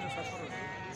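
Turkish sheep at a livestock market bleat in a long, wavering cry that fills the whole moment, close by, with faint background murmur.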